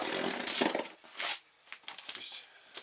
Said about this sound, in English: And here we have some scissors.